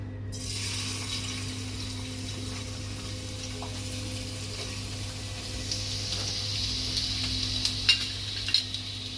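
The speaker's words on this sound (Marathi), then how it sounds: "आता त्याच्यामध्ये आपण अद्रक, लसूण आणि बारीक चिरलेल्या मिरची टाकणार आहोत" Ginger, garlic and finely chopped green chilies sizzle in hot oil in a pan, a steady close frying hiss with light stirring clinks and scrapes toward the end.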